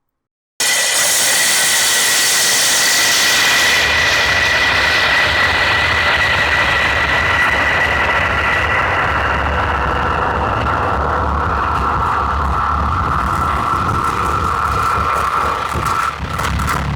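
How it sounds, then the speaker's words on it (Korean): A power drill bores a hole in a kitchen wall for a range hood, giving one continuous, loud, close grinding drone that starts abruptly and holds steady throughout with no talking. "날 깊이만큼 뚫을 수가 없기 때문에 중간에 이렇게 한번 빼줘야 돼요"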